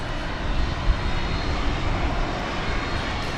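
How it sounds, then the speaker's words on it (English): Ex-Japan Airlines MD-11 airliner at DFW Airport at night, a steady, loud, broad roar of jet engines that holds constant with no talking. "this is an ex-Japan Airlines MD-11"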